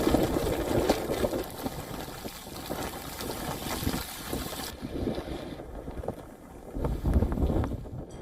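Strong hurricane wind gusts batter a Sarasota waterfront near Siesta Key, roaring steadily with broad rushing noise and buffeting the microphone, rising and easing in surges across the stretch.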